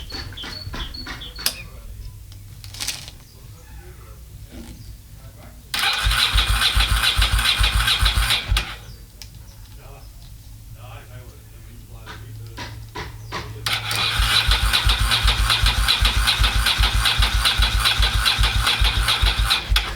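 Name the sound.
motorcycle engine cranking with flat battery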